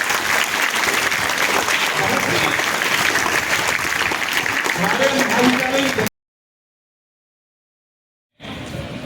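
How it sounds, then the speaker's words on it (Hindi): An audience at a school Hindi Day ceremony gives loud, dense applause for the Hindi teachers for about six seconds, then cuts to silence before the clapping resumes briefly. "एक बार जोरदार उनके लिए तालियां बजाइए।"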